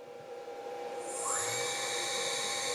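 A CNC xPRO V5 spindle spins up to 8000 RPM, its whine climbing steeply in pitch over about a second before settling into a steady, close, high-pitched drone.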